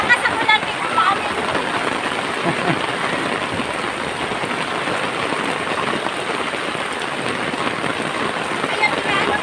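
Steady outdoor rain pours down, a dense even hiss of drops hitting surfaces that holds at the same level throughout with no break.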